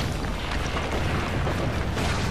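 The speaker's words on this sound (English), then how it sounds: "I thought they were gonna shoot another cannon at me" Cannon fire from Assassin's Creed Brotherhood, heard as a dense, rumbling explosive roar that stays loud and continuous across the short stretch with no talk over it.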